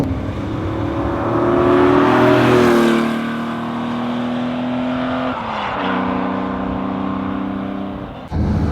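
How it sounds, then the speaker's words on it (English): A Porsche 911 2.8 RSR engine drones and rises through the revs from inside the cabin, its exhaust note shifting pitch as gears change, loud and steady throughout. "you can definitely hear the exhaust"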